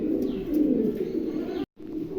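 A pair of Andalusian exhibition pigeons coo at a Bengali breeder's farm loft, a steady close low murmur running almost throughout, broken by a short silent gap near the end.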